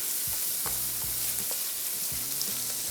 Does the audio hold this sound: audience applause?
no